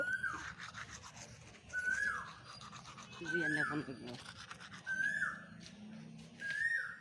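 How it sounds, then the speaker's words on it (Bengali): Toothbrush strokes during a morning routine come as five rhythmic bursts of scrubbing, each with a squeaky whistling edge, close and fairly quiet with background murmur between them. "আমি এখন ব্রাশ করব"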